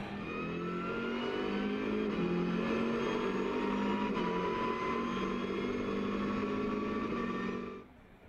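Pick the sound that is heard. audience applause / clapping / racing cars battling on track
racing cars battling on track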